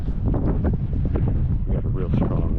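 Strong wind blowing across a steep hillside during a chukar hunt, a loud steady rumbling buffet on the microphone that continues throughout as someone speaks over it.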